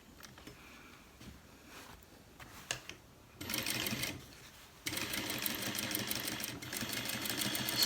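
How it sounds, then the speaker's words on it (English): A sewing machine top stitches the waistband of cargo pants, with a few short bursts of stitching followed by longer steady runs of rapid needle chatter, close and alone. "top stitch the waistband"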